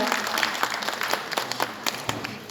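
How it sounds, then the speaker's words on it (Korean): An audience at a national sharing award ceremony applauds a Prime Minister's commendation recipient, a lively mix of many hands clapping with individual claps standing out, moderately loud throughout. "여러분 박수로 함께 나눠주시면 감사하겠습니다."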